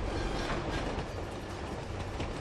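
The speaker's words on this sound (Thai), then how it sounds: "รถไฟมารถไฟมา" A train rumbles in a dense, continuous roar during Uncharted 2 gameplay, with rattling wagon noise and clattering wheels filling the whole stretch and no talk over it.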